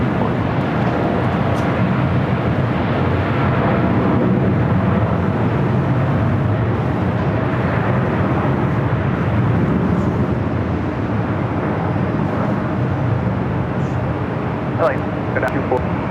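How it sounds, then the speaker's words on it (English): A Lufthansa Airbus A380 arriving from Munich at Los Angeles LAX airport rumbles as a broad, sustained jet roar for about sixteen seconds, holding fairly loud and even throughout while voices talk over it. "Lufthansa A380 Super now arriving just 6 minutes."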